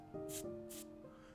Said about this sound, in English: How much do I have to spray?